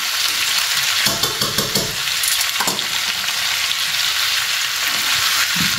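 Garlic sizzles and crackles steadily in a hot pan as it is stirred, with occasional scraping from the utensil over a continuous, close frying hiss.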